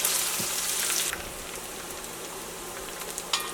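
Onions hitting hot oil with mustard seeds and urad dal give a dense, close sizzle with fine crackling pops, loudest at first and then settling into a steady fry.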